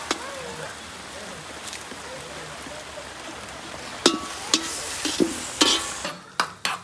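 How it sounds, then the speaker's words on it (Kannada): Cashews fry in Nandini ghee in a pan outdoors during rain while making Kashi halwa, a soft steady sizzle under rain patter, with sharp clinks and scrapes of stirring toward the end. "ಈಗ ಈ ಥರ ಕ್ಯಾಶ್ಯೂವನ್ನು ನಾವು ಚೆನ್ನಾಗಿ ತುಪ್ಪದಲ್ಲಿ ಫ್ರೈ ಮಾಡಿ ಇಟ್ಕೋಬೇಕು"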